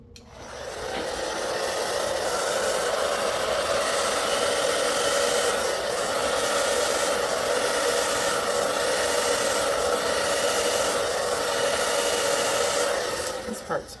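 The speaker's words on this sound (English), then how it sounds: "I need to grab the hairdryer now" A hair dryer blows steadily and loud throughout, a continuous broadband whoosh used while working on an acrylic paint pour, with no talk over it.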